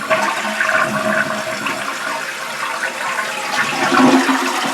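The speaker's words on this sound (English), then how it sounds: "Let's flush it and see that it actually flushes stuff." A toilet flushes right after its Fluidmaster fill valve was replaced, giving a loud, steady rush and swirl of water that lasts the whole stretch with no talk.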